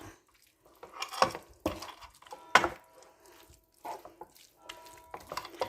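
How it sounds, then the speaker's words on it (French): A spoon stirs liquid cream into leeks for a gratin base, giving soft wet scraping and knocks against the pan in irregular strokes, close and fairly quiet. "Et nous allons mélanger tout ça."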